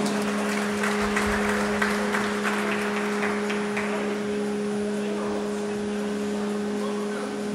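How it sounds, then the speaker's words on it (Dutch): Spectators at an outdoor sailing design contest applaud a team in a loose patter of clapping that fades over the first half. A steady electrical hum runs underneath the whole time. "Applaus voor team 11."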